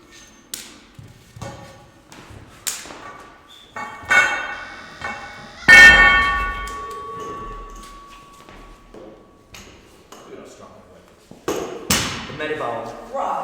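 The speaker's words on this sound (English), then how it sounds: "We're just gonna pull the bumpers off of the axle here" Heavy bumper plates are pulled off a strongman axle and loaded onto a deadlift bar at a national strongman competition, giving loud metallic clanks, thuds and a ringing ping, scattered and irregular, with people talking around them.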